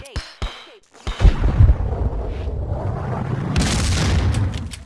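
A grenade explosion in the video game Max Payne, a loud deep boom that swells and rumbles for a couple of seconds after a few sharp clicks and a shouted voice, then a harsh burst of debris noise.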